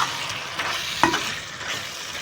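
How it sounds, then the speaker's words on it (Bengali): Muri ghonto sautéing in a pan, a steady close sizzle with scraping stirs and one sharp clink of the spatula against metal, no voices. "ভালো করে এটাকে ভালো করে কষিয়ে নিলাম।"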